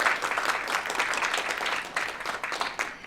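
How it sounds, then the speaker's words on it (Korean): An audience at an aging-friendly policy forum gives a round of welcoming applause as an organizing official is introduced. The steady, moderately loud clapping fills the room and tapers slightly toward the end. "환영의 박수 부탁드립니다."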